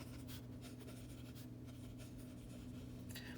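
Pen or marker scratching out hand-lettered words on a notebook cover during a decorating craft, soft close strokes in short bursts over a steady low background hum.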